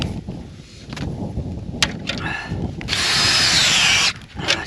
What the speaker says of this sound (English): Now, I'm gonna go ahead and drill out my hole.